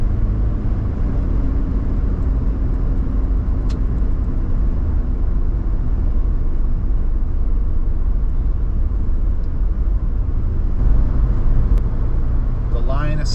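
GWM Tank 300 diesel SUV accelerating on the road, heard from inside as a loud, steady low engine rumble with tire and wind noise building slightly, while someone talks over it.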